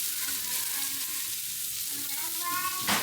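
Chopped carrots and onions frying over high heat in a hot pan, a continuous loud close sizzle with a soft hiss, with no talking.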